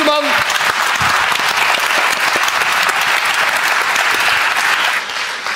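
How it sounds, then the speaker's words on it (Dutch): Studio audience at a Dutch television talk show applauding, dense sustained clapping that fills the whole stretch before easing slightly at the end, with voices faintly under it. "dat applaus komt jullie meer dan toe"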